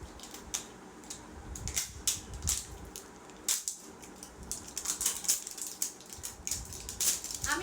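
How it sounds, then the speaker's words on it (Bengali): A perfume box being unpacked up close, with irregular crisp clicks, crinkles and tearing rustles of cardboard and wrapping coming in quick bursts throughout. "এখন পারফিউমের যে বক্সটা আছে এটা আনপ্যাক করবো"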